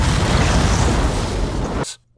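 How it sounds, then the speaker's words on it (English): An explosion from a dramatised scene of a plane striking the North Tower of the Twin Towers, a loud sustained roaring blast that cuts off abruptly into near silence. "and then the explosion."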